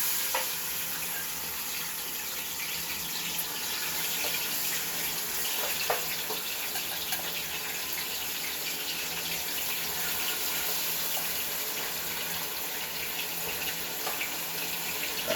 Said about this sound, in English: now I'm gonna go ahead and add my shrimp to my oil because now it's hot